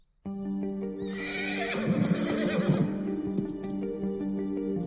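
A horse neighs loudly and close by, a long whinny that rises and then wavers, with some hoof and movement noise after it.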